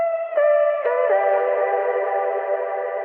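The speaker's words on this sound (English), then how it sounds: "For the chops, I pitched them up even more, added a ton of reverb, delay, and filtering" High, pitched-up, filtered vocal chops ring out in short sung fragments, smeared into long reverb tails and echoing delay repeats.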